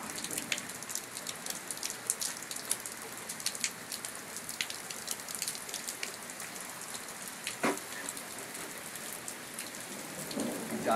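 Steady rain falls during a thunderstorm, a dense hiss of drops pattering on surfaces with scattered sharper splats close by, moderately loud and unbroken, with no voices.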